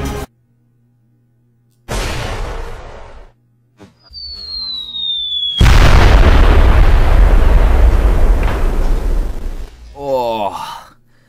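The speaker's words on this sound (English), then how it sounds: "That explosion was incredible. Oh man, it was huge." A large explosion in a Roblox Piggy game booms in after short bursts of game noise, a heavy roar that sustains for several seconds before fading, followed by a brief warbling sound effect.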